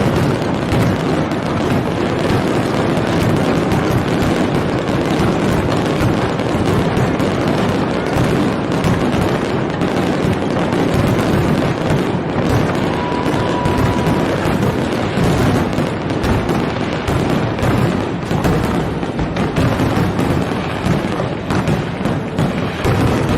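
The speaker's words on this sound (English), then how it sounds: "I'll share a little bit of the grand finale of last year's Nashville Fireworks" Dense, continuous barrage of fireworks from the grand finale of the Nashville fireworks show, loud overlapping booms and crackles with no pauses throughout.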